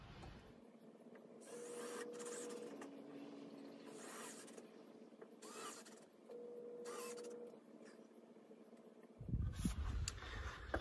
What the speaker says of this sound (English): now I'm gonna run the slide out back out just a little bit and get this exterior wall set